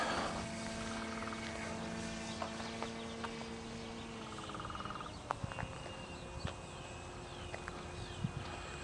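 A radio-controlled Peace Drone model aircraft cruising in level flight at mid-throttle, giving a steady motor whine with harmonic tones that holds throughout, with a few brief clicks and knocks over it.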